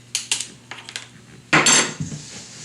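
Soda bread dough stirred with a spoon in a bowl, several quick knocks and scrapes of the spoon against the bowl, then a louder, longer scraping sweep, close and alone without talking.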